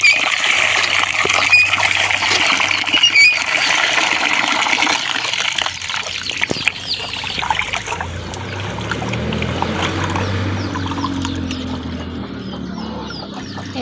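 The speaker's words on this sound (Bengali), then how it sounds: "ভাত রান্নার জন্য চাউলগুলো ধুয়ে নিতেছি ভালোভাবে" Rice grains are swished and rinsed in water for cooking rice, with sloshing, splashing and a pour over continuous watery churning, loud and near, no voices.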